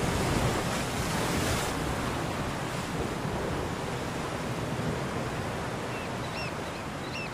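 Ocean waves pound against a rocky shoreline at low tide, a continuous loud, broadband surf roar with steady wash and a brief surge near the start, with faint bird calls toward the end.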